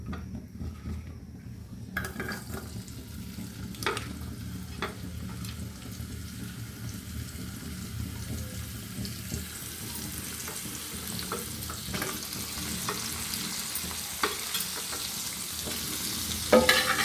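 Coriander and turmeric powder frying with a pinch of salt in a pan, ahead of rohu fish, giving a steady low sizzle with occasional stirring scrapes and utensil clinks throughout, no voices.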